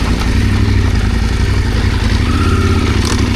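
An adventure motorcycle engine runs loud and close, holding a steady, rumbling idle with raised revs and mechanical clatter throughout.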